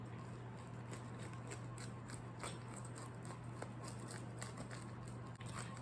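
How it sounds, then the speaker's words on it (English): Crisp crunching and crackling cuts through a homemade cast iron pepperoni pizza crust repeat over a steady low hum, close and fairly quiet, with no talking. "So we're gonna cut this up and listen to this crunch."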